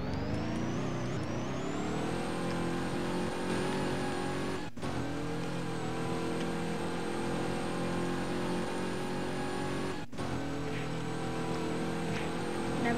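Blue car driving in the Roblox game Prison Life, a steady loud engine drone with layered harmonic tones throughout, broken by two brief dropouts, with no talking.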